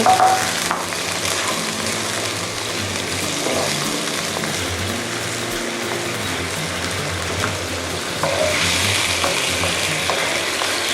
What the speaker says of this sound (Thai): จากนั้นเราก็ใส่ลูกชิ้นกุ้งค่ะ ที่เราเตรียมไว้